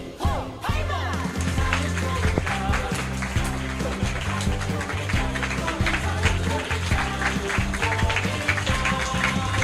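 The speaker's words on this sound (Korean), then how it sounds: "네, 박수 드리겠습니다." Audience clapping at a youth committee launch and appointment certificate ceremony, a steady ongoing round of applause from a hall crowd with background music playing underneath throughout.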